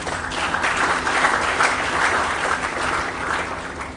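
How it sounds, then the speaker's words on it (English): A room of formal-event attendees claps in a sustained, even wash of applause that rises slightly in the middle and tapers near the end. "That applause could be louder"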